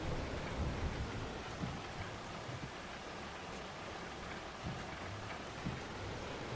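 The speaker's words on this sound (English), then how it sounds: "I'm sure the rain doesn't help either." Steady rain hisses across the whole stretch during yard work with a tractor towing an unfolded implement, a broad wash of falling water with a few low rumbles underneath and no voices.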